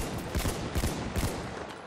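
Gunfire from the online shooter Battlefield 1 comes as three quick, sharp bursts about half a second apart over a steady background hiss of battle.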